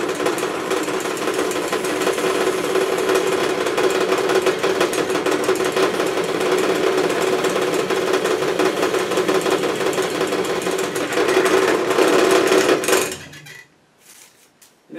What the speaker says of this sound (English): set the lock on your drill press